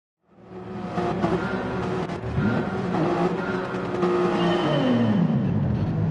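A grid of race cars launches off the start at Laguna Seca in Gran Turismo 7, engines rising from silence into a loud, sustained roar of revving and upshifting.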